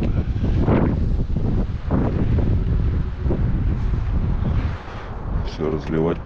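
Heavy outdoor wind buffeting the microphone in a continuous low roar, with a voice briefly speaking near the end.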